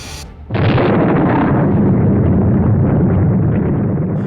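Torpedo explosion striking the ocean liner Lusitania, one sudden loud blast after a brief lead-in, then a long, dense, sustained roar that holds at full strength for several seconds.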